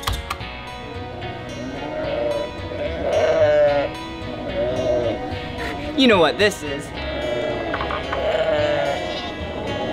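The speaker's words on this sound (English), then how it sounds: "That was the sheep. Bah, bah." Sheep bleating at a children's museum animal-sound display: quavering, wavering bleats rise several times, close and fairly loud, while someone talks throughout.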